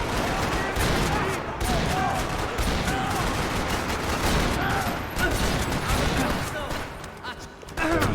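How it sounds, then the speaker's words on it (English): Dense gunfire rattles through a parking lot shootout in Max Payne 3, continuous overlapping shots and bursts at high volume, with voices mixed in beneath the clatter. "Another parking lot rattling with gunfire."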